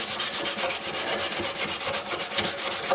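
Rapid, rhythmic back-and-forth strokes of a sanding block on wood of a guitar peghead and fretboard, close and steady, a dry scratchy rasp repeating about six times a second with no talking.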